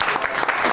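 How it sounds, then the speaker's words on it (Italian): A crowd audience applauds in a dense, steady burst of clapping that is brief and close. "Sono Mike e non ho mai sentito così tanti applausi in una sola giornata."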